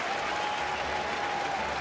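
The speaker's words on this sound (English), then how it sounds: "he got a big round of applause from the fans here" Baseball fans in a stadium applauding Brandon Phillips as he comes to the plate, a steady, even roar of crowd clapping and cheering heard at a distance.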